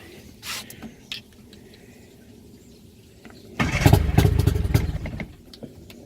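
A boat's outboard motor fires up while being flushed, starting after a few faint knocks and clicks into a loud, rough, close engine roar that holds for a couple of seconds before dropping away.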